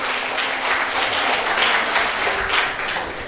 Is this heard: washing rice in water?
no